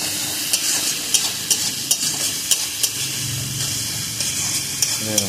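Marinated mutton hits hot spiced masala for khashir mangsho, a strong steady sizzle with regular stirring taps and a brief low voice murmur partway through.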